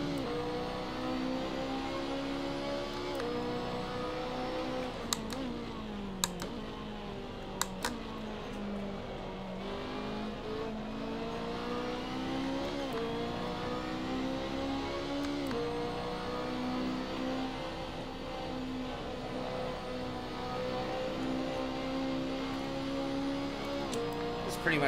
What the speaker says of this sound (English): Revving the heck out of the engine on the downshifts.